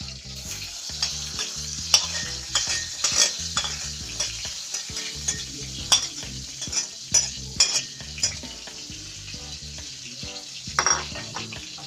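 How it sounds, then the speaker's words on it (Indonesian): Steady loud sizzling from a hot pan with repeated scraping and stirring, utensils clattering against metal throughout. "Yang pertama masukin bawang, tomat, cabai buat ditumis duluan."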